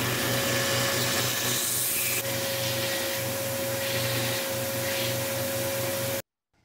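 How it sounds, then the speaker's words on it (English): A big homemade grinder cleans burrs off a cut part for a wooden switchblade, giving a loud steady whine and rushing drone that stops abruptly just before the end. "I cleaned up the burrs left from the cutting disc on my big homemade grinder."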